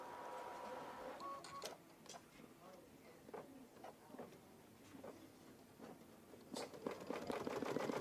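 A Baby Lock Solaris embroidery machine stitches with a steady, fast mechanical chatter and repeated sharp ticks, fairly close and moderately loud, with faint background voices.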